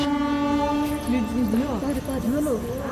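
A train pulls into a station on a trip to Puri, its horn blaring long wavering tones over a steady rumble of rail noise, loud and close.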